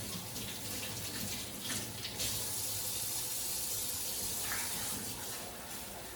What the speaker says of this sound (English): So then rinse it in cold water